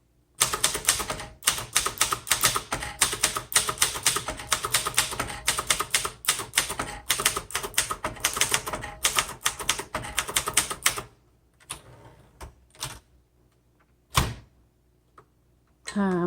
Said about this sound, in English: It's just not going to type as well as some of our other typewriters.